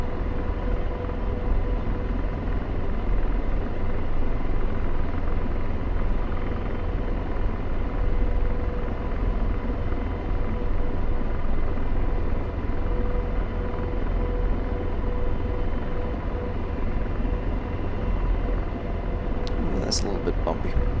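AH-64 Apache helicopter landing in the DCS flight simulator game: a steady, loud rotor and turbine drone throughout, with someone talking over it.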